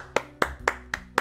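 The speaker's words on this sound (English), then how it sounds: "Round of applause for him." Five evenly spaced hand claps in Roblox Lumber Tycoon 2, close and crisp, in a quick steady rhythm with no voices.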